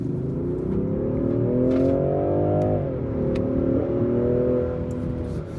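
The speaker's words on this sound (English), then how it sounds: "It's not the quickest car in the world, but it definitely does get up and go." 2025 Range Rover Sport accelerating, a loud close engine drone climbing in pitch, briefly dipping at a shift, then pulling again with no talk.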